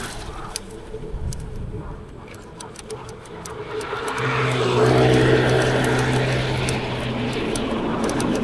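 Background traffic hum with scattered clicks, then an engine grows louder and holds a steady droning tone as a motorcycle passes nearby in a bike lane.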